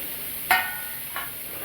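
Tomatoes and mixed vegetables, including potato, are sautéed in a pan, with two brief scraping stirs over a faint, steady sizzle.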